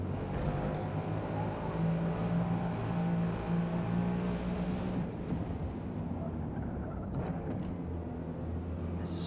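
A field of Ford Mustang race cars roars around a track in Forza Motorsport, a continuous loud engine drone with sustained revving that holds steady throughout and is not masked by speech.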